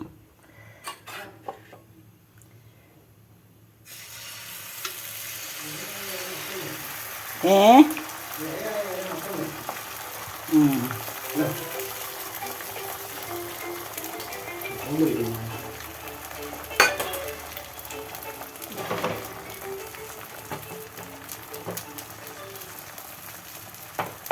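A mixture of green chilli, shallots, curry leaves and ginger fries on a dosa pan, a soft steady sizzle with occasional stirring scrapes and clinks, and people talk intermittently over it.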